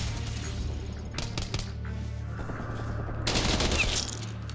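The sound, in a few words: gunfire from primary weapon in Black Ops video game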